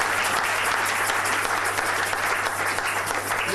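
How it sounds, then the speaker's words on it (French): A church congregation applauds loudly during a French-language service, a dense, continuous wash of many hands clapping together that holds steady from start to finish. "Acclamez très fort."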